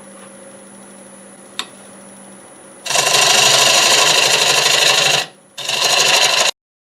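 A wood lathe spins a pear crotch bowl while its tenon is cut down to size, a low motor hum first, then a loud, dense scraping of the tool against the turning wood, a brief break, and one more scraping pass before stopping.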